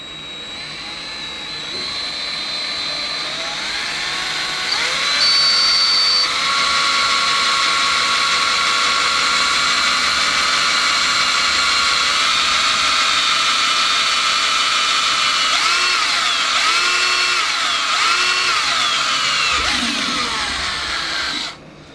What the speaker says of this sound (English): And so I'm going to drill the first hole.